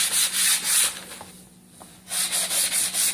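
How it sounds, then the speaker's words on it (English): Rhythmic hand sanding on wood, a raspy scratching in repeated strokes that pauses briefly, then resumes at the same steady pace. "you're always sanding with the direction of the wood grain"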